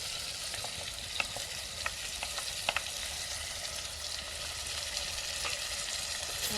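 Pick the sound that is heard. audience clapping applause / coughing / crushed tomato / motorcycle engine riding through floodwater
crushed tomato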